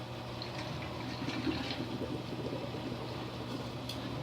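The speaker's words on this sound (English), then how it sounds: "Gurgling and brewing." Water gurgles and bubbles steadily through a custom PC liquid cooling loop as the pump runs, a continuous watery churn over a low mechanical hum.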